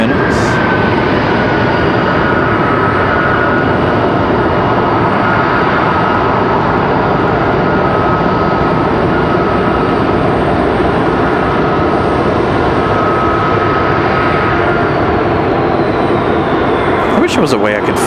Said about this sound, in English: We've got Endeavor 4944 coming in from Austin, Texas, CRJ 900LR, flying 2 hours 13 minutes.